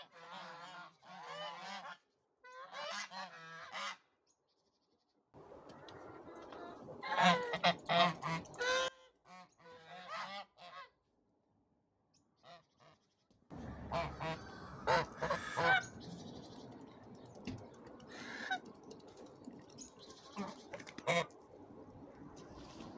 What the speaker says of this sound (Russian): Вот такой покладистый гусь у меня.